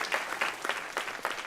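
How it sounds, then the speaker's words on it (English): Audience at a climate change symposium applauding the interim director, a brief burst of clapping with uneven peaks from individual hands, fairly close and without talk. "So let's give her a round of applause."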